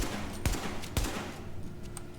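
AK rifle fire from The Division video game: two distinct punchy gunshots about half a second apart, moderately loud over a steady game ambience, then a faint trailing click.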